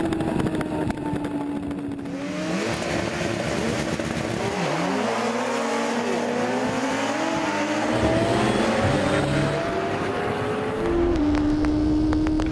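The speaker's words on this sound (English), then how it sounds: "here's what it feels like being strapped to an HP4 during a soaking wet practice run" BMW HP4 superbike howling through a soaking wet practice run at high speed, a loud continuous engine note rising and falling with gear changes and revs, steady wind and spray noise throughout.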